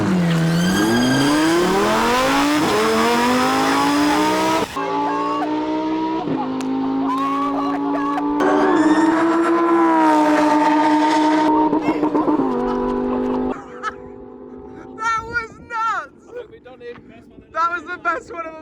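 A Lamborghini accelerates hard in a drag race against a fishing spomb, its engine note climbing through several gear changes, loud and close, before receding into fainter bursts near the end.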